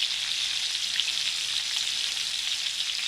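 Flour browns and sizzles in a hot pan for old-fashioned gravy, a steady dense frying hiss with faint stirring scrapes, close and continuous throughout.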